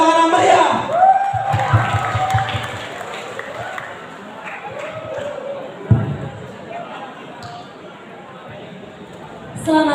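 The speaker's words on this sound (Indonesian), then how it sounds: "Berikan tepuk tangan yang meriah." Crowd of students at a school poetry performance clapping and cheering, a loud burst that fades into scattered applause and murmuring, with a voice speaking over it.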